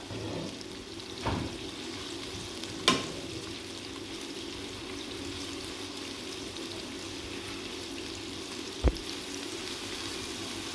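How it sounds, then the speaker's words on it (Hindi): Onions browning lightly toward golden in a pan for mutton dum pukht, giving a faint steady sizzle with a couple of brief clinks or taps, no voices. "प्याज को हम हल्का सा ब्राउन करेंगे, गोल्डन ब्राउन हल्का सा।"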